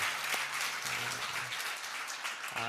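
A church congregation gives a round of applause in a worship service, a dense, even wash of many hands clapping, fairly soft and steady throughout.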